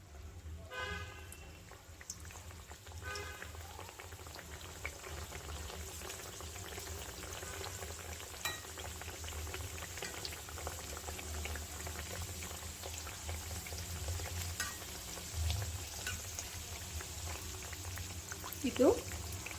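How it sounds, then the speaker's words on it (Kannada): Chandrakala sweets sizzle and bubble in hot oil, a steady, even frying hiss that runs throughout at a low level with a faint clatter now and then. "ಈಗ ಮಾಡಿ ಇಟ್ಕೊಂಡಿರೋದು ಒಂದೊಂದೇ ಎಣ್ಣೆ ಒಳಗಡೆ ಹಾಕ್ಕೊಳ್ಳೋಣ"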